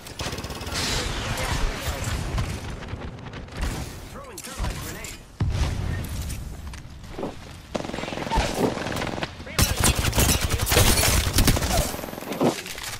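Video game gunfire, with loud bursts of shots mixed with mechanical clatter and breaking sounds, layered under players' voices and dense game noise throughout.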